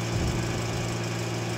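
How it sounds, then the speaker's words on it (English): A truck engine idles steadily at low throttle during a fuel meter creep test, a continuous close, even rumble with no change in pitch and no talking. "We can do this test at engine idle."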